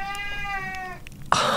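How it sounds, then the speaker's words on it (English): A cat lets out a long, drawn-out meow with a steady tone that holds for about a second, close and fairly clear, before a sudden burst of other noise cuts in. "Such a long meow."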